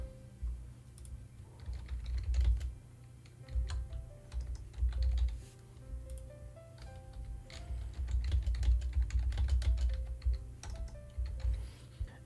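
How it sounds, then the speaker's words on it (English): Steady typing on a computer keyboard while writing an email, irregular clusters of soft clicks with short pauses between bursts, close and fairly quiet with no talking. "then we simply type out our email"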